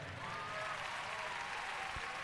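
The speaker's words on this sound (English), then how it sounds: "make a nice warm round of applause" An audience at swimming senior championship finals gives steady applause for the women's 100 breaststroke finishers. The clapping is faint and somewhat distant and fills the whole moment without a break.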